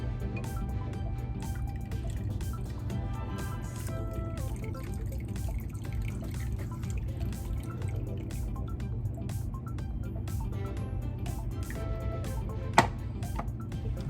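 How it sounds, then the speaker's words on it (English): Lemon juice strained through a strainer into eggs for lemon bars, heard as faint, close dripping and trickling over a low steady background, with one sharper tap near the end. "I'm gonna need my strainer here so that I can strain my lemon juice into my eggs"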